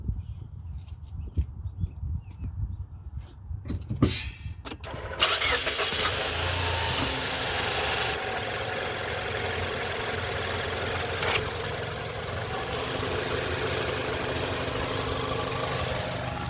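Quiet clicks and shuffling lead to a 2025 Mazda CX-5 engine cranking and catching, then settling into a steady, even idle that continues to the end.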